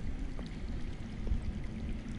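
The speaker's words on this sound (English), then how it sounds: "I hear water. From underground." Running water flows underground in a Game of Thrones video game scene, a steady, soft wash of noise that continues without a break and with no voices over it.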